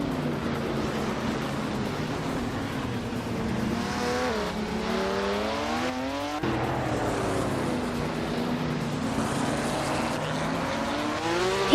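Race cars in a video game surge off the start line, a steady engine roar with rising revs and pitch sweeps continuing throughout, near and fairly loud, with no talking.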